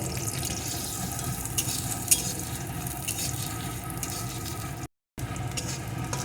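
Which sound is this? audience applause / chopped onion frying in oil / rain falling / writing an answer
chopped onion frying in oil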